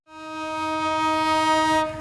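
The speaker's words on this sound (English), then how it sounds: "the first train on the China-Europe Railway Express also rolled into action" A sustained train horn from a China-Europe Railway Express freight train, one long steady blast of about two seconds, loud and close, with no voices.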